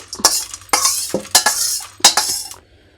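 Roasted spices for Mysore rasam tipped into a pan with a few quick scraping and clinking strokes of a metal spoon, near and clear, in short bursts with pauses between.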